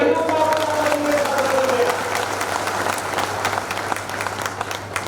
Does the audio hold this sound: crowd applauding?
yes